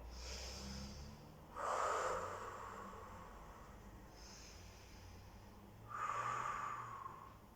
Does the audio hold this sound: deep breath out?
yes